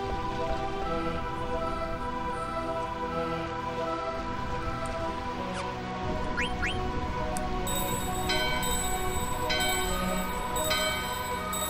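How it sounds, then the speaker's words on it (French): Bells ringing together in unison in Final Fantasy IX, a soft chiming that starts partway through and repeats in even strokes over a quiet sustained musical backdrop with light pattering. "Votre cloche et celle de la porte sonne à l'unisson."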